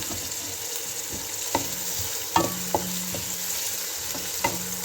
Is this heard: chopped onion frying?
yes